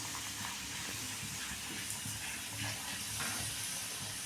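Puris sizzle and hiss steadily in hot oil, a continuous close frying crackle with no voices over it.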